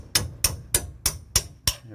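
Six sharp, evenly spaced metal hammer strikes ring out on a rusty car brake carrier, each a bright clang with a short ringing decay, close and loud with no talking.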